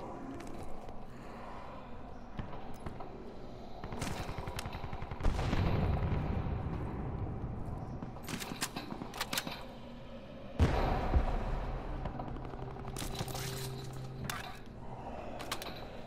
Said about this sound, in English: Where'd those shots come from?